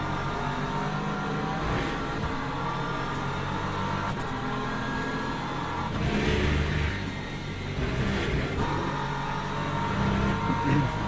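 Mercedes race car engine in the Le Mans Ultimate racing game, a continuous loud droning roar that swells and revs on the straights, with someone talking over it.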